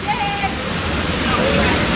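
Waterfall in Dominica roaring as a steady, loud broadband rush of falling water, close by and continuous, with faint voices mixed into the noise.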